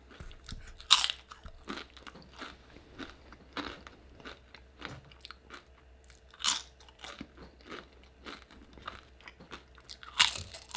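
Tortilla chips with nacho cheese sauce being crunched at a Mexican food mukbang; three loud, sharp bites stand out close to the mic, with softer chewing and crackling in between and no talking.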